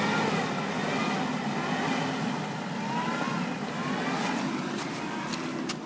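An off-road car crawling along with four-wheel drive engaged, a low steady engine drone heard from a distance and holding an even level throughout, with faint clicks near the end.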